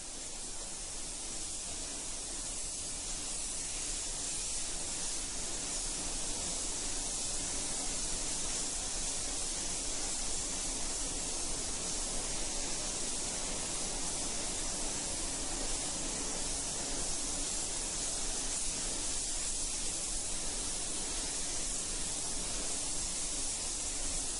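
A spray gun lays pearl silver paint over a design on a custom car in a continuous, even hiss that runs steadily without pause.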